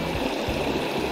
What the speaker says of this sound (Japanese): まあだいたいこれが終わりの滝かね